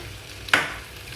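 Shrimp being stirred in a hot frying pan for a tomato beer garlic butter dish, a single brief scraping stir with a burst of sizzle over a low steady frying hiss, close and fairly quiet.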